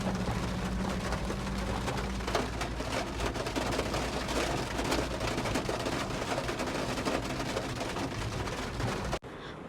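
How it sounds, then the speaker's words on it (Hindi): Sudden heavy rain pours in a steady, dense hiss with no letup, moderately loud and close, alone without voices. "यहाँ पे इतनी अचानक से जो है ना बारिश स्टार्ट हो गई थी, काफ़ी तेज़"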